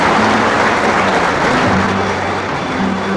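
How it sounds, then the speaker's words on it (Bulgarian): Dense, loud studio-audience applause on a Bulgarian television competition show, welcoming a jury member and holding steady throughout with no voices. "Аплодисменти!"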